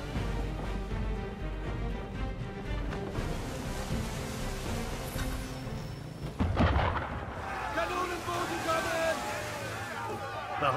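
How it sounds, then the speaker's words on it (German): Cannons firing at a ship in Assassin's Creed III, heavy booms rumbling under wind and sea noise, one loud blast standing out midway, with someone speaking over the battle. "Warum schießen die auf uns?"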